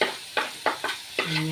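Tomato, green chilli, onion and garlic frying with spice powders while being stirred in a pan, several short scraping strokes over a soft sizzle, close by.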